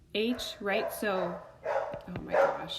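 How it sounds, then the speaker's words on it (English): A dog barks in several short yelping bursts close by, mixed with and partly under a person's ongoing talk indoors. "That's my dog."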